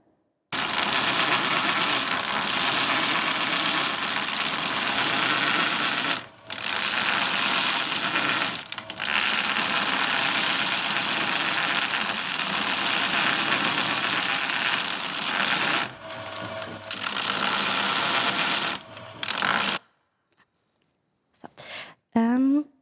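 A spindle machine roughly removing material with a diamond wheel: loud, continuous harsh grinding with a few brief pauses, which stops near the end, followed by faint clicks.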